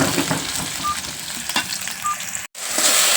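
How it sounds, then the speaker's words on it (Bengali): Chopped onion and garlic frying in hot oil, a loud close sizzle that crackles steadily throughout with a brief dropout near the end. "তো এখন আমি পেঁয়াজ আর রসুনটা ভালো করে ভাজিয়ে নিতেছি"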